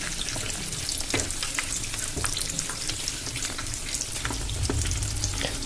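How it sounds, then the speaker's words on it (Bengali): Breaded chicken cutlets frying in a pan of oil and being turned over, a steady close sizzle broken by scattered clicks and scrapes as the pieces are flipped. "কাটলেটগুলোর একটা সাইড ভাজা হয়ে গেছে। এবার আমি একটু উল্টে দিচ্ছি।"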